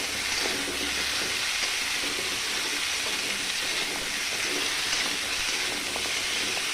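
Carrots frying in a pan for chicken stew, a steady, dense sizzle that stays loud and even throughout with no pauses.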